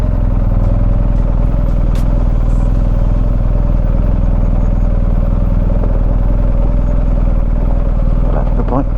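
Motorcycles, including an R1250GS, R80G/S and Royal Enfield Himalayan, descend a steep off-road decline. A loud, continuous low engine drone runs throughout with wind rush and a few faint clatters.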